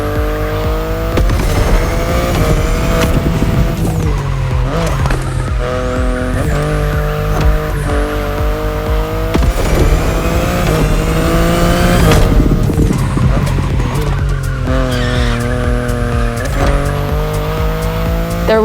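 A BMW i8 hybrid sports car driven in the racing game The Crew Motorfest, its engine droning loud and steady with shifting pitch as it accelerates, shifts and squeals its tires through corners for the whole stretch.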